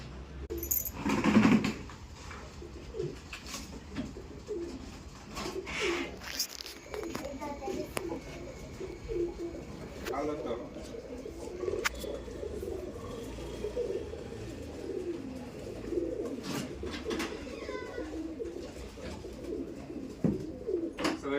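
Pigeons cooing in soft, repeated low calls near a nesting spot, continuing throughout while a person talks over them, with occasional rustles and knocks.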